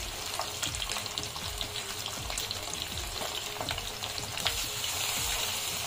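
A large shivra fish frying in a pan gives a continuous, even crackling sizzle with fine spatters throughout, moderately quiet and with no talk.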